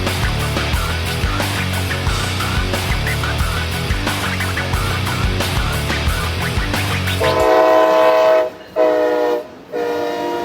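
CSX EMD/Progress Rail SD70ACe-T4 (ST70AH) diesel locomotive rumbling past with clattering rail cars, then a loud, sustained multi-tone horn blasting in several long bursts near the end.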